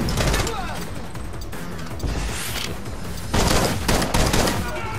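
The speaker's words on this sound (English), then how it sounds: "Whoa, shit. Sniper." Bursts of rapid gunfire crackle continuously in the video game The Club, with a heavier volley near the end.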